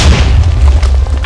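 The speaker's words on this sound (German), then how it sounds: "Was ist da explodiert?" An explosion in a Minecraft parkour map, a loud deep booming blast that rolls on as a heavy low rumble for over a second.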